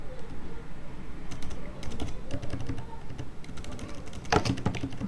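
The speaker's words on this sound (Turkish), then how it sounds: "Şimdi bir şey yazalım." Typing on a computer keyboard during a Bash scripting lesson, with quick, uneven clusters of key clicks and a heavier tap near the end over a low background hum, with no talking.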